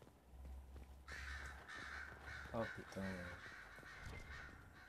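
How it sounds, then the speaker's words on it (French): Crows caw repeatedly in the game Dragon Age Inquisition, a string of harsh calls around the middle of the moment, heard under someone talking and ambient game sound. "Faites-moi taire ces corbeaux, bordel."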